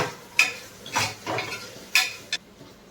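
A spoon stirs onion, tomato and chillies in a frying pan, a few sharp scrapes and clinks against the metal over a soft background sizzle, close and without talk.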